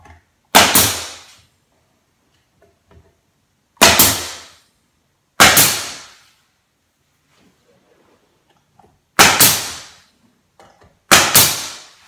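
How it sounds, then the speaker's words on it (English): A pneumatic nail gun drives nails into crown trim molding: five sharp, loud, isolated bangs at irregular intervals, each with a short ringing decay, separated by near silence. "I'll shoot some nails"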